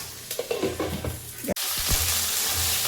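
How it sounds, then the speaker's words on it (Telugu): Okra dropped into hot oil with onion in a pan, giving a sudden loud burst of sizzling that settles into a steady, bright frying hiss, with a few stirring scrapes and clatters beforehand. "వేగిన తర్వాత బెండకాయలు వేయాలి."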